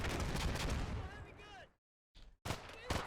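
Machine gun fire in the Combat Mission: Black Sea wargame, a dense rattle of gunshots and distant bursts, with a sudden silent gap before more sharp reports.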